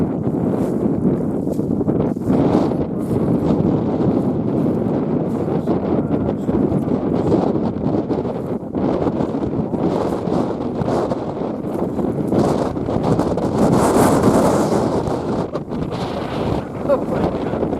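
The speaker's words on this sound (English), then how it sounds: "there's a lot of wind" Strong wind buffets the microphone outdoors on a Norwegian fishing trip, a loud, continuous broadband roar with gusts rising and falling throughout.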